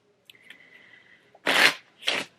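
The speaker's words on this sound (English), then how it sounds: "Okay, 4 of spades going back in. And we'll shuffle." A faint tone hums briefly, then two quick riffling bursts of a deck of playing cards being shuffled, close and crisp, with a short gap between them.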